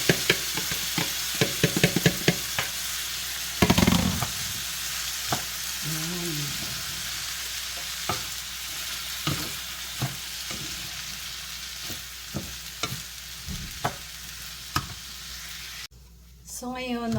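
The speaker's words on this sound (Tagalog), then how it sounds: "lalagay na natin yung ating rice. So, yung rice natin, nahugasan ko na yan. So, igisa natin dyan." Washed rice sautéing with ginger in a hot pan for Hainanese chicken rice, a steady loud sizzle broken by scraping and knocking stirs, close up and without talk.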